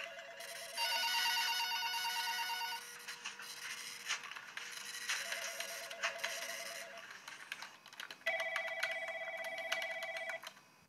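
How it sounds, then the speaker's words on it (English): Telephones ringing in an ambient office soundscape, repeated electronic trill bursts in different tones, some overlapping, alongside a printer-like mechanical whir with ticking, no talk. "the original track had some phone ringings as well, so I added some more"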